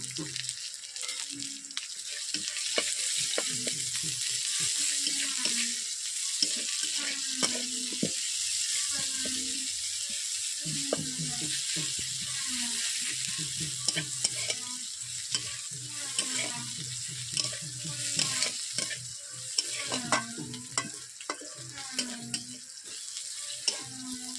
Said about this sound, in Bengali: আমি দিয়ে দিচ্ছি আদা এরপর দিয়ে দিচ্ছি পেঁয়াজ কুচো